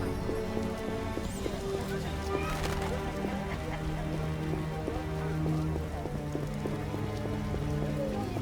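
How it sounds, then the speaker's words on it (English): Rain falling in a swamp in The Witcher video game, a steady hiss and patter under background music and voices, with occasional hoof clops in the mix. "The scourge of the lords, this rain."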